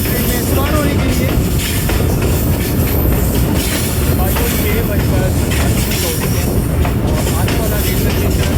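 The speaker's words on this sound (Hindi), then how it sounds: "ट्रेन हमारा स्टॉप करने लगी है जी रोशन बेला रेलवे स्टेशन के ऊपर" A passenger train slows into Roshan Bela railway station between Lahore and Kasur, its steady rumble, clatter and faint wheel squeal filling the cabin from up close, with a voice talking over it.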